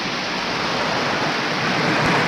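Heavy rain from a hurricane storm pouring down, a dense, loud, unbroken hiss with no voices, with a faint low thump near the end.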